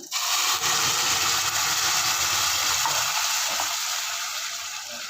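Ground onion, garlic, ginger and tomato paste sauté in a hot pan for a Tamil-style cowpea gravy, giving a steady, loud broadband sizzle that runs unbroken and fades slightly toward the end, with no talking.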